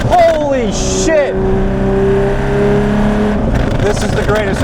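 Up close, a Porsche 911 GT3 Touring with a six-speed manual roars as it revs, holds a steady high engine note, then shifts, with voices briefly audible over it.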